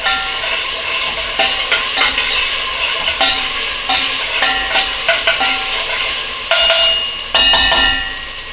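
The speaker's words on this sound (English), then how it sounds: "Stir that." Seasoning for Peruvian menestrón is stirred in a pot, a loud close sizzle broken by repeated rhythmic scrapes and clanks of the spoon against the metal, about one every half second.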